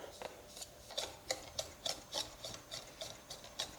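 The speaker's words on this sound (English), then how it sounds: "Now we just mix this together now. It's good to use a whisk here." Sugar mixture whisked in a bowl while making cantucci, a quiet rhythmic scraping and ticking of whisk wires against the bowl, about a dozen short strokes at an even pace, faint and close.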